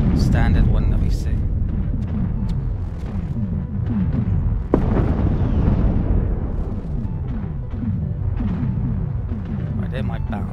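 Battleships open fire in the space strategy game Endless Space 2, a dense run of rapid booming shots and rumbling blasts rolling over each other, with one sharper crack partway through, under a steady low drone.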